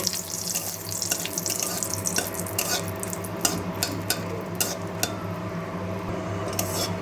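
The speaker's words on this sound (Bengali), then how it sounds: "প্রথমে লঙ্কা 3টেকে হালকা করে ভেজে নেব।" Green chillies fry in mustard oil in a wok, giving a steady, close crackling sizzle dotted with sharp pops and spits throughout, with no talking.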